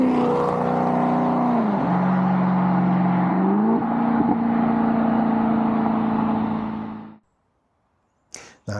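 A Maserati GranTurismo on the road with an alternator fault, its engine a steady loud drone with pitch dips as gears change and the revs shift, running for about seven seconds before cutting to near silence and a brief clatter.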